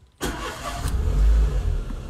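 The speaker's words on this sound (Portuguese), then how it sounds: "liga o carro aí" A car engine cranks and catches, then settles into a loud, steady running rumble close by during a driving lesson, with no talk.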